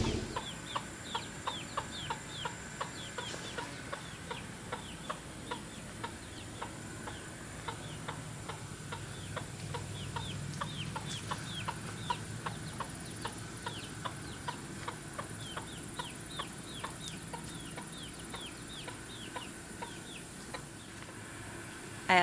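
Mother hens cluck softly and repeatedly in a quick, steady rhythm, accompanied by faint chirps from chicks following them and a low background hum.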